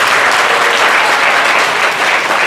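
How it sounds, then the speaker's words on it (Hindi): Loud, dense group applause from a class gathering in Vishwas Nagar, Delhi, steady throughout with no speech on top. "सब लोग अपने खुद के लिए जोरदार तालियां बजा दीजिए।"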